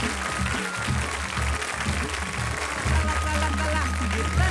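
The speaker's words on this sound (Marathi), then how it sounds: "जोरदार टाळ्या झाल्या पाहिजे त्यांच्यासाठी." Audience applause for a kirtan performer on a Marathi kirtan competition stage, a dense, steady clapping wash that lasts throughout and swells slightly near the end, with low music underneath.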